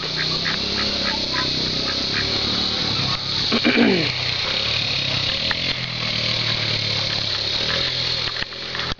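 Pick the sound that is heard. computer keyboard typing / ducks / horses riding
ducks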